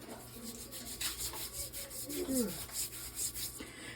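Soft homemade hair grease of beeswax, coconut oil, sage, basil and lemon balm rubbed between the hands, a close, quiet rhythmic brushing and smearing of skin repeating for a few seconds.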